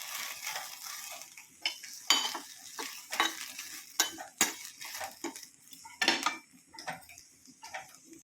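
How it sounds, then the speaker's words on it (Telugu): Chamaku (colocasia leaf) curry stirred in a pan, a spoon scraping and clinking against the metal in an irregular run of sharp strokes over a faint background, with no talk. "పచ్చిదనం పోయేంత వరకు వీటిని ఇలా కలపాలి"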